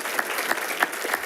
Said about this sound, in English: I'm hoping that I can get a round of applause for Conrad